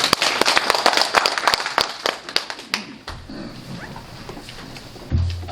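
An audience at a district council monitoring report meeting and forum gives brisk, close applause to welcome a speaker, lasting about three seconds before fading into room noise.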